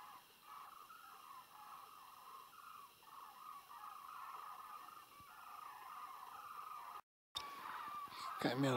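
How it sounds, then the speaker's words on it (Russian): Cranes call at sunset somewhere out in a field or the sky, a faint, repeated warbling chorus at a distance over a quiet outdoor hush, briefly cut off near the end. "Где-то журавли то ли в поле, то ли в небе, не понять."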